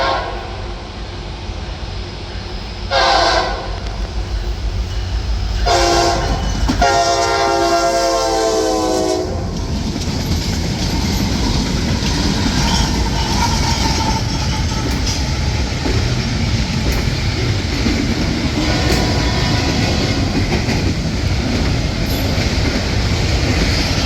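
A D&H freight train led by locomotives including ET44C4 3991 passes close by, opening with several loud blasts of the horn followed by a steady, continuous roar of the locomotives and rolling wagons.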